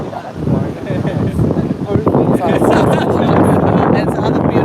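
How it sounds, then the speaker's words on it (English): Strong gusts buffet the microphone on a windy coastal esplanade in September, giving a loud, rumbling roar that rises and falls over people talking. "It's another beautiful day. It's windy though."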